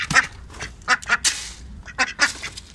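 Newly arrived pet ducks quack loudly and close by in short, raspy bursts, a handful of calls in quick uneven succession with no talking.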